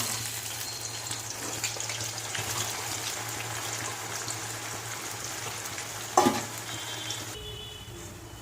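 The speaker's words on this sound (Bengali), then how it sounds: "পেঁয়াজটা এবার ভেজে নেব। কড়াইতে দিয়ে দিই।" Onions fry in hot oil in a wok, a continuous close sizzle with stirring and a low steady hum beneath, a sharp clatter near the end, then quieter hiss; no talk.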